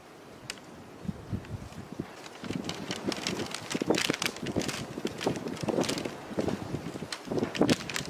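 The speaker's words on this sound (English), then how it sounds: "It's very windy here at this desert ghost town." Gusty desert wind roars across an open ghost town, rising and falling in loud buffeting bursts with scattered crackling and thumps, no voices.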